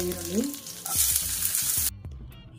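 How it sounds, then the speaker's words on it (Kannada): Onions and curry leaves fry lightly in a hot pan with mustard seeds and cumin, giving a bright, close sizzle and repeated scraping stirs that stop abruptly near the end. "ಈರುಳ್ಳಿನ ತುಂಬ ಹೊತ್ತು ಫ್ರೈ ಮಾಡೋದೇನು ಬೇಡ, ಲೈಟಾಗಿ ಫ್ರೈ ಮಾಡಿಕೊಂಡ್ರೆ ಸಾಕಾಗುತ್ತೆ"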